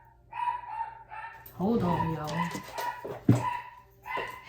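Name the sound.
dog barking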